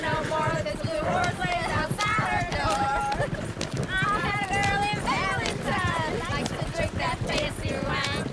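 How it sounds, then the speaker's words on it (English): A horse gallops in Red Dead Redemption 2, with steady pounding hooves beneath game music and people talking over it. "I'm hearing the shit out of this horse."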